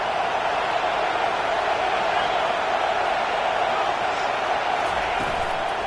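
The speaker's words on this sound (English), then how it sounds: "This crowd trying to make life miserable for this offense." A dense, steady roar from a large college football stadium crowd, loud and continuous throughout, in a Tennessee game setting with a faint voice under the crowd noise.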